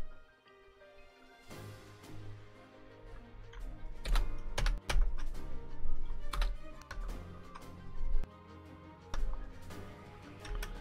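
Typing on a computer keyboard, a quick irregular clatter of close, sharp key presses with a few heavier thumps, running for several seconds with no speech.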